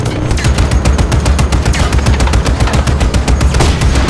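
Rapid, sustained automatic gunfire in the open-world action game Just Cause 3, loud and close, a steady stream of shots running the full length with no talk.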